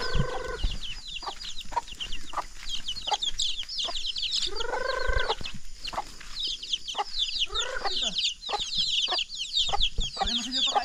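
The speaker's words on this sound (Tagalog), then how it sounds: "Gutom na yung mga manok." Hungry chickens on a farm cluck steadily, close and busy, with a rooster-like call now and then and chicks peeping in the background.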